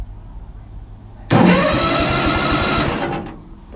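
A small engine's electric starter, fitted to an amphibious ATV boat, suddenly kicks in, cranking with a rapid, steady churning rhythm for under two seconds before cutting off abruptly.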